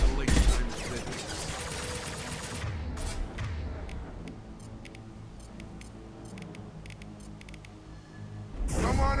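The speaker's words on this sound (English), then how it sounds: "Firing a high-impact shot!" Gunfire in a video game: sharp bursts of shots repeat over a dense, busy game soundscape, with a heavier rumble near the start and another loud burst at the very end.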